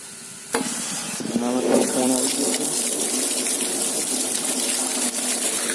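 Water spraying from a motor-driven hose into a planting pit for a newly set peepal sapling, a steady loud hiss running without a break after a brief thump at the start, no talk.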